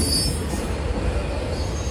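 Union Pacific freight train of 664 axles rolling through Amsterdam, a loud, close, continuous rumble of wheels on rail with high squealing overtones.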